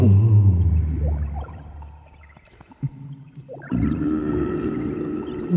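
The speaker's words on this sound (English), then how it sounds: "It's been eaten by a humongous whale, spouting in the water." A deep, drawn-out whale call rumbles and moans for several seconds, then a louder, brighter groan swells in near the end, heard alone with no talking.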